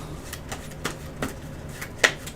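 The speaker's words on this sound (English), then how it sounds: "I'm going to do a nice little shuffle" A deck of game cards being shuffled by hand, heard as soft repeated riffling ticks and flicks in a loose rhythm with a sharper snap near the end, close and fairly quiet.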